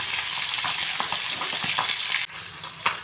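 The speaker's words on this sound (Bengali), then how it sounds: "আগে কানকোগুলো ভেজে দিচ্ছি" Catla fish gills fry in hot oil in a small wok, giving a steady close crackle and sizzle broken by a few sharp pops and a brief dip.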